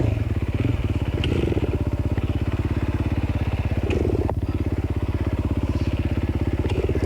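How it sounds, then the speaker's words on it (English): A 260-pound hard enduro dirt bike full of gas runs its engine steadily at close range through a Bad Medicine race, a continuous rhythmic motor drone with occasional clatter and small surges. "it's a 260-pound bike full of gas"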